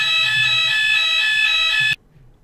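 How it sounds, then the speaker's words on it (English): A building fire alarm sounds during a test, a loud sustained electronic tone with a rough pulsing buzz, cutting off abruptly near the end and leaving near silence. "Not like a fire alarm test mid-video"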